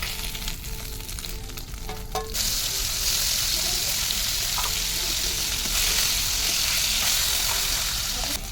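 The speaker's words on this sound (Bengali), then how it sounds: "ভাজা চলছে আর এটাকে খুব ভালো মজমচে করে ভাজবো" Oil sizzles and crackles steadily as lote fish fries in a hot pan, growing louder after a few seconds of quieter clinking and stirring.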